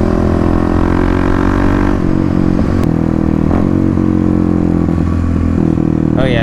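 A 2018 Kawasaki KLX351 with a full Barker exhaust and no baffle or spark-arrestor core idles loud and close, with a deep, throaty, constant engine roar and blips of revving throughout.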